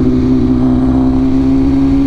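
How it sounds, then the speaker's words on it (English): A 2023 BMW S1000RR motorcycle's rear tire spins up on a slippery surface, the engine holding a steady loud, close drone with a strong sustained tone throughout. "I just did a little burnout without even trying. The tires have spun on me."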